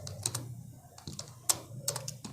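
Java code being typed on a computer keyboard: scattered, fairly quiet keystrokes in small irregular clusters, with short pauses between bursts and no voices.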